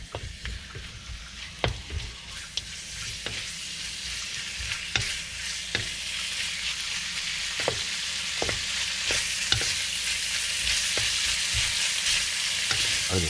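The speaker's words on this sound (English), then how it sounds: "I just love stir fry." Stir fry sizzles hard in an electric wok, a dense continuous crackle close by, punctuated by regular stirring clacks and scrapes, with no voices.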